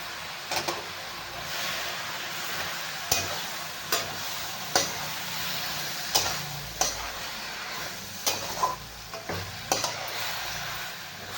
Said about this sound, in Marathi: अशा प्रकारे व्यवस्थित एकदम भाजी आपल्याला मिक्स करून घ्यायचे